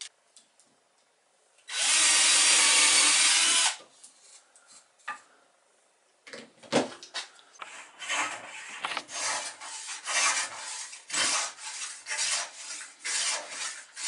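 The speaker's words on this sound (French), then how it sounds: "maintenant que ton bois est raboté, tu vas scier en largeur." Wood for a toy boat being planed by hand: one long, loud, steady rasping stroke, then a quieter run of short, uneven scraping passes, close up with no talking.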